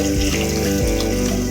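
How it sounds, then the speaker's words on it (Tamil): A tumbler of water pours steadily into a pot of cabbage kurma for a moment, a continuous splashing gush over a low background hum. "தண்ணி ஊற்றி"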